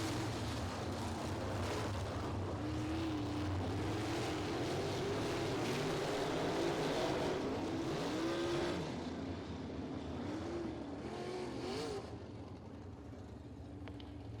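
Sprint cars racing at Lincoln Park Speedway, engines roaring loud and continuous with rising and falling pitch as the cars circle the track, the sound easing slightly near the end.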